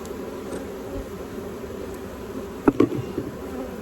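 Honey bees buzz softly and steadily around a hive fitted with a queen excluder, a low continuous drone with a couple of brief knocks partway through.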